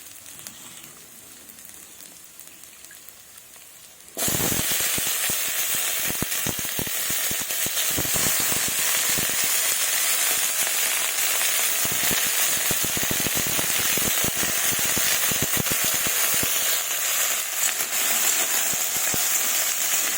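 Drumstick pieces and potatoes drop into hot oil and start to fry. After a few seconds of quiet, a loud, steady sizzle bursts in and keeps crackling with dense popping for the rest of the clip.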